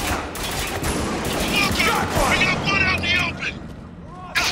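Rapid gunfire and explosions from the war shooter game Spec Ops: The Line crackle in dense bursts, with a player's voice talking over the battle.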